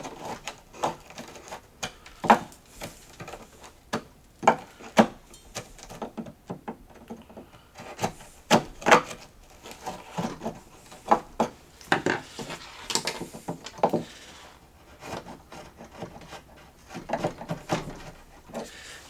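Chisel work on wood, knocking and prying chips out of a mortise during mortise-and-tenon joinery, heard as a string of sharp, irregular taps and clacks at close range with short pauses between strikes, no talking.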